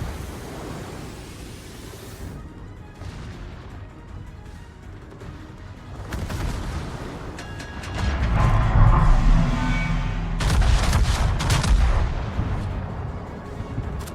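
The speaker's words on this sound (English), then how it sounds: "Something's firing at me over that island." Warship guns in a naval video game fire in deep, booming salvos, with a low roar building midway and further heavy blasts layered over rumbling background noise.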